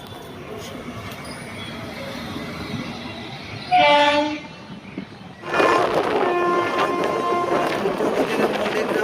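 Tamralipta SF Express pulled by a locomotive, moving, with a rumbling run and a loud horn blast midway, followed by louder rolling noise of the wagons close by.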